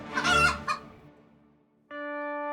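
A chicken crows loudly up close, followed by a brief pause and then a sustained steady tone.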